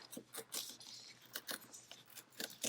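Paper torn by hand along a line for a crafting planner, heard as short, crisp ripping bursts in an irregular series, close and fairly quiet, with no talk.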